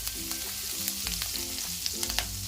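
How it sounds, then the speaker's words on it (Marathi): Green chilies hit a little oil in a wok and fry with a steady, close sizzle and crackle, with light stirring clatter throughout and no talking. "थोडी हिरवी मिरची घालून घेऊया."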